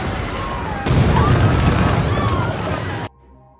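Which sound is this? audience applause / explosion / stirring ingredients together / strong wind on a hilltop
explosion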